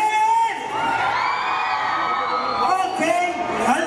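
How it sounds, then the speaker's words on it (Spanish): Women in a crowd at a live banda music show let out a loud, sustained chorus of high shouting and whooping cheers that rises and falls for several seconds. "¡El grito de las mujeres!"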